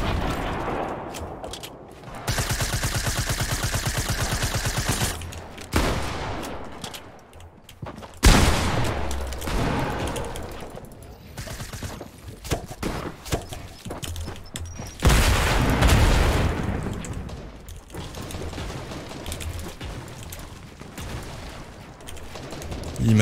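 Gunfire in a shooter video game plays loudly, with bursts of rapid automatic fire and booming shots mixed with heavy in-game noise throughout.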